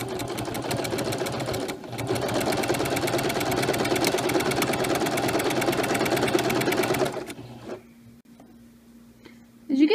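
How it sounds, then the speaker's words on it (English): A sewing machine runs steadily, stitching a fabric mermaid tail in one long, even burst of rapid needle strokes, then stops and leaves quiet room tone with a faint hum. "I'm going to want to go back over that stitch again so that it holds better"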